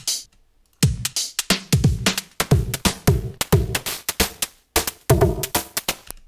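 An electronic drum beat programmed in Ableton plays with an FM oscillator whose settings are automated. Steady, punchy hits with tonal, ringing layers repeat in a tight rhythm throughout, with no talking.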